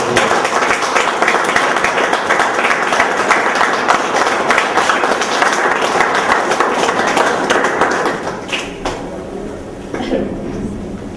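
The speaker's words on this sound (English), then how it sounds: "I think first we should give them a big round of applause." An audience at a national conference inauguration applauds loudly and steadily for several seconds, a dense wash of clapping that thins out toward the end.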